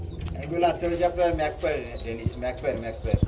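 A Banja pigeon pair sitting on eggs coos in low, rolling, repeated phrases at close range, with faint background chatter and a few soft knocks.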